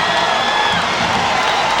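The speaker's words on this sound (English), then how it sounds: "Crowd warms to his effort." Stadium crowd at a college football game between Eastern Illinois and Hawaii, cheering during a kick return: a steady, dense roar of many voices, loud and continuous with no pauses, the sound blurring into a broad wash of noise.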